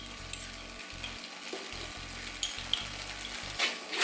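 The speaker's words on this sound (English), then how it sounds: "I'm going to come in and add those sun-dried tomatoes in there." Sun-dried tomatoes are stirred into a cream sauce in a hot pan, giving a steady soft sizzle with scraping stir strokes and a few light clinks of a utensil.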